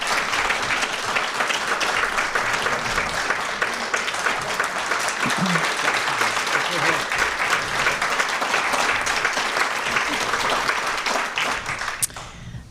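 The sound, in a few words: audience applause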